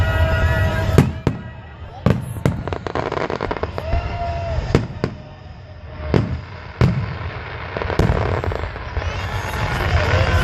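A public fireworks show in Redding bursts overhead in a series of loud, sharp booms and cracks at irregular intervals, some echoing, with a crowd murmuring and talking between the blasts.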